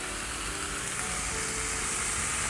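Water hitting a hot pan of stir-fried chicken feet and beef sets off a continuous broadband sizzle and hiss, steady and fairly close, with no speech over it.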